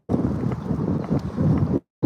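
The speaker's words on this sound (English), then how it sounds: "Windy!" Strong outdoor wind buffets the microphone in a loud, continuous rumbling roar that cuts off abruptly near the end, then briefly returns.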